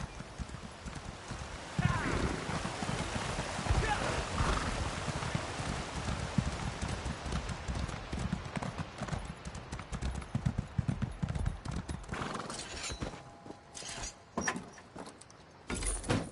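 Horse hooves clip-clop steadily at a riding pace in The Elder Scrolls game, loud and continuous with light rattling over a dense ambient bed, thinning out briefly near the end.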